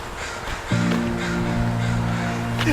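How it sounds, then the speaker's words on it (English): Crows at a busy outdoor spot caw in harsh repeated calls, with steady droning tones underneath and faint talk in the background. "why are there so many crows here?"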